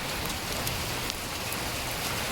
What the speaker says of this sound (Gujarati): વરસાદ એકદમ ચાલુ થઈ ગયો છે.